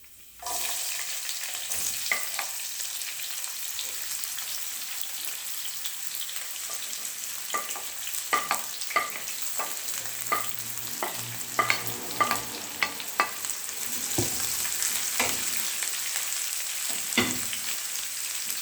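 Sliced onions fry in a pan for a Kerala-style egg curry, a soft hiss under frequent scraping stirs that quicken through the middle and continue to the end; no voices.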